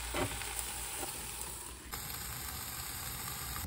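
Pork fat chunks cooking in an air fryer, giving a steady close hiss and sizzle with a constant fan whir underneath, unbroken for the whole stretch.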